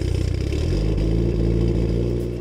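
Mitsubishi Evo 9 fitted with a 3-inch titanium Tomei catback exhaust revs hard, its loud, close engine note climbing quickly and then holding steady.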